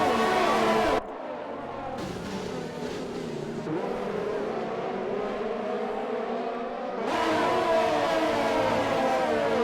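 Several race cars in an F1-style racing game at the Hungarian Grand Prix roar together as a pack, loud engine whine with gear-shift changes and overlapping revs throughout.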